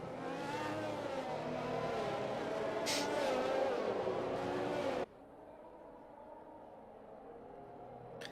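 In the F1 2021 video game, race cars run in a pack behind the safety car, making a steady engine drone with a brief high whine. The sound then drops sharply to a quieter hum.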